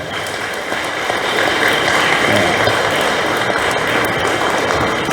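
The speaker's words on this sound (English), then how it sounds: "Give them, I think, a loud clap" Loud, sustained applause from a church congregation for two small boys during a Christmas Eve vigil Eucharist, a dense steady wash of clapping that swells slightly and holds for several seconds.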